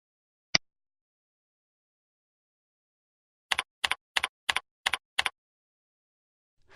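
A single sharp click, then six evenly spaced double clicks of keys pressed on a computer keyboard as a password is typed, crisp and isolated in a quiet room.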